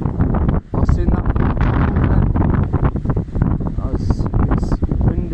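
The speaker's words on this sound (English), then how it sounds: "It's windy today." Loud, gusty wind buffets the microphone in rough bursts during an RC car speed run, with a voice speaking underneath and water or engine noise in the background.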